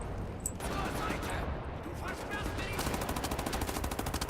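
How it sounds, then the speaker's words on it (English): Automatic gunfire rattles in the Wolfenstein: The New Order shooter as enemies in trenches are fired on. Bursts crack out over game ambience, ending in a fast, steady stream of rounds, with a player talking over parts of it. "Shoot the dudes in the trenches, oh my god."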